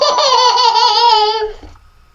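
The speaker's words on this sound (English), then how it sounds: "A baby laughing." A short, AI-generated burst of baby laughter, bright giggling heard alone for about a second and a half before cutting to silence.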